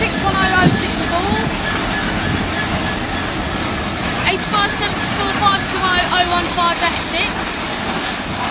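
Freight train wagons hauled by a Class 66 locomotive rolling past at Eastleigh: a loud, continuous rumble with rhythmic clickety-clack from the wheels, close by, with a faint voice underneath.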